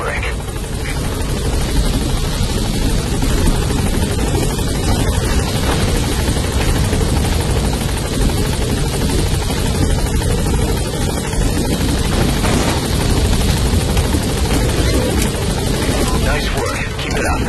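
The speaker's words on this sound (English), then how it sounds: "Chopper's touching down." A helicopter touches down in the video game Metal Gear Solid V: The Phantom Pain, its steady rotor roar loud and continuous throughout, with voices talking over it.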